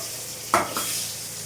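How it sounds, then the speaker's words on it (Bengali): Potatoes dropped into a pan of hot oil with browned whole spices give a short burst of sizzling that settles into a steady fry, close and moderately loud, with no talking. "ফোড়নগুলো ভাজা ভাজা হয়ে গেছে দেখতেই পাচ্ছ ধোঁয়া উঠছে তো আমি আলুগুলো ছেড়ে দিলাম"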